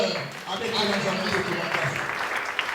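A church congregation applauds and cheers to acclaim the Lord during a sermon, a dense, continuous wash of clapping and raised voices from a crowded hall.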